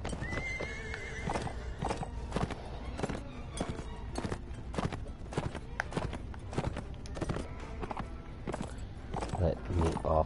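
Horse hooves clip-clopping steadily alongside neighs and whinnies in the medieval combat game Mount & Blade: Warband, with game sounds and a voice speaking over it.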